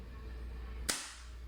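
A KJWORKS M700P gas bolt-action airsoft rifle fires once, a single sharp, short crack against a quiet low hum, fading quickly.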